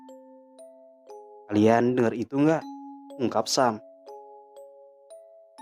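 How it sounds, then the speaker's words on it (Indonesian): A bell rings in a horror story set on a fog-bound climb of Mount Dempo, with sustained chiming tones lingering behind a narrator's voice that speaks over it. "Suara lonceng menggema di telinga."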